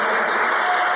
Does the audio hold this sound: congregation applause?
yes